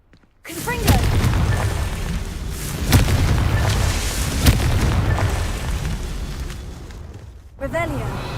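A Confringo blasting spell explodes in Hogwarts Legacy: a sustained rumbling boom with crackling debris and a few sharp bursts, ending in a short fresh blast.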